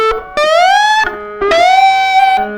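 Slide guitar whips in a song lesson: two bright rising slides, each climbing in pitch then settling into a held note, played close and clear with a short pause between them.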